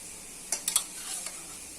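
Boiled vegetables tipped into sautéed pav bhaji masala in a pan, a short soft sizzle with a few quick scrapes and clinks of a spoon around the one-second mark, close and brief.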